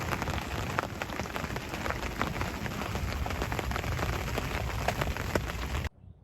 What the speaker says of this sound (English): Quite windy, and of course still raining